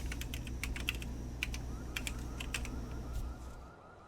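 Typing on a computer keyboard: a steady run of crisp, irregular key clicks, close and fairly loud over a low hum, thinning out and stopping near the end.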